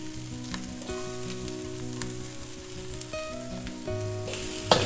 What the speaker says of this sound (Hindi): अब ऐड कर देंगे सारी सब्जियां, कैप्सिकम, बेल पेपर्स, पत्ता गोभी।